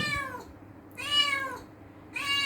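A cat meows loudly and insistently to be let outside, three drawn-out calls in a row spaced about a second apart, close to the listener with no one talking.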